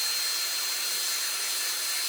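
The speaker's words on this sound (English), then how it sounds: "The speed of this particular drill is not so much that it creates excess friction on my fingers" An electric drill whirs steadily while winding yarn onto a weaving bobbin, a constant close hiss-like motor drone with no breaks.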